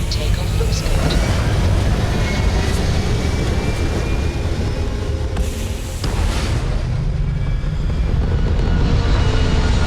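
A spaceship lifts off in Starfield, a loud, dense, continuous engine roar and low rumble that holds steady throughout, with a brief dip near the middle and talk beneath it.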